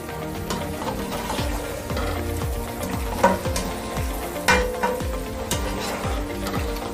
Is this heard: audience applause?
no